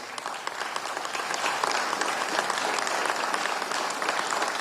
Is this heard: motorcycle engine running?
no